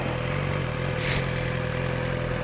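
A motorcycle engine turns over at slow speed during a low-speed riding drill, a steady close drone with a constant low hum and no revving.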